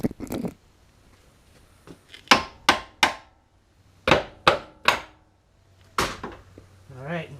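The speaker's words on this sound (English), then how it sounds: "you'll take a hammer and very lightly tap on the top of them" A hammer taps lightly on a part to loosen it during a CV shaft change on a Honda Civic: sharp, distinct metallic knocks, mostly in groups of two or three, with quiet pauses between the groups.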